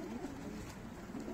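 Two pigeons cooing softly under steady background noise in Turkey, a brief low throaty murmur.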